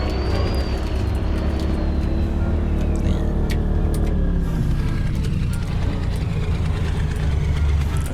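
Steady low rumble of a truck engine idling as it is parked in Farming Simulator 19, near and continuous with faint mechanical whines above.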